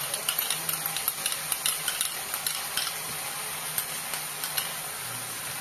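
Gobi manchurian is stirred with tomato ketchup, soy sauce and vinegar in a hot pan, giving a steady sizzle under repeated light scraping and clinking spoon taps.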